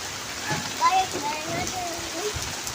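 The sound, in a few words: heavy rain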